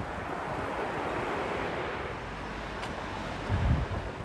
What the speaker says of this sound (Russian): Море штормит, но светит солнце, небо голубое.